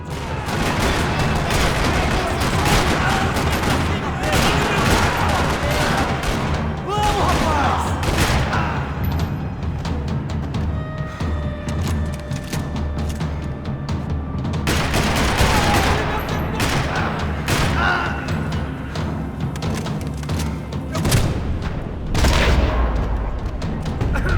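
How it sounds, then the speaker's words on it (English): Loud, continuous gunfire in a parking lot in the video game Max Payne 3 rattles throughout, rapid bursts and booms layered densely, with occasional heavier blasts near the end. "Another parking lot rattling with gunfire."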